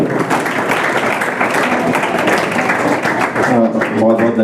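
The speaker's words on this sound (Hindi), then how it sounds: "जोरदार तालियों से स्वागत करेंगे" Students and staff applauding to welcome a guest entrepreneur at a Delhi government school dialogue session, a loud steady wash of crowd clapping that carries throughout, with voices blended in.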